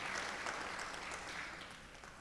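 Steady, moderately faint audience applause at a ceremony honoring Opal Lee, even clapping from a crowd continuing throughout without a break.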